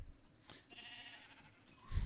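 A sheep bleats in the Minecraft Galacticraft mod: a short, fairly faint bleat near the middle of the clip over quiet game ambience, with a louder low thump at the end.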